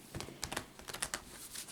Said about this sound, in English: I just wanted to shuffle up a little bit more.